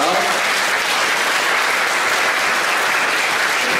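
Congregation applauding at a church service after an infant baptism, a steady, dense, loud wash of clapping that lasts throughout.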